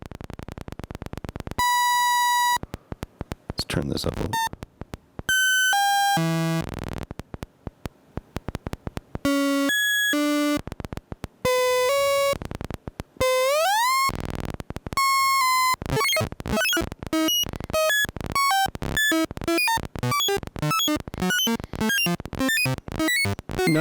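Erica Synths Eurorack sample and hold module sampling a slow sine LFO, producing a stepped run of pure synth tones that jump in pitch, first in irregular spaced blips and then as a fast, even stream of short notes, with a brief spoken remark early on.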